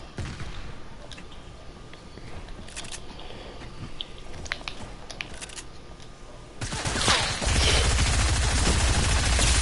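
SMG gunfire in a first-person shooter game: a loud, sustained rapid burst near the end, following quieter scattered shots and game noise.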